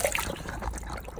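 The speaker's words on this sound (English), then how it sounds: "Make sure the water running in." Water runs into an Intex PureSpa inflatable hot tub during a pump replacement, a continuous light trickling and splashing heard close up with no talk.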